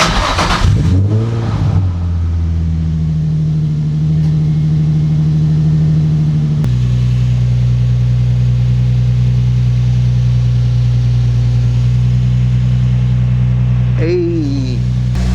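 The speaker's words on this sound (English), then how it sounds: "I'm about to start up the car" Nissan 350Z engine cranks and fires up, then settles into a loud, steady idle with a step up in revs partway through, close by, with a brief voice near the end.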